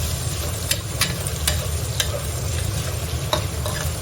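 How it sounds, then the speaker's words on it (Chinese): Fatty pork slices stir-frying in a wok with rendered fat, a steady loud sizzle with occasional sharp scrapes and clicks of the spatula. "一定要给它炒香。"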